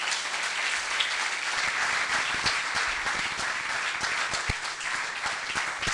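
A church congregation breaks into loud, sustained applause, dense clapping filling the room continuously for several seconds in acclamation of Jesus Christ.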